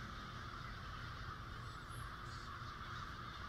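Birds cawing and honking in a low-poly Siren Head horror game, a steady flock chatter set back at a distance under a constant hiss of ambience.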